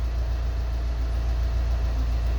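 A Volkswagen 2.0 TDI diesel engine idles steadily in a repair shop after fuel system work, a low, even rumble with a constant drone and no voices over it.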